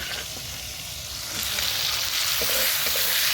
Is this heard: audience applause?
no